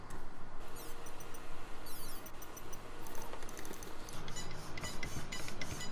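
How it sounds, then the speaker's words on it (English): A Power HD LW-20MG servo on a 5.5 volt speed test gives quiet, rapid whirring and clicking bursts, close but faint, repeating throughout. "Not the quickest servo in the world,"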